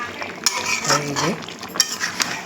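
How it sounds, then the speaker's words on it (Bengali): Metal spoon scraping and clinking against a pan as meat is stir-fried into kosha with a splash of water, a few sharp scrapes and knocks over a faint background. "এই মাংস কষাচ্ছি"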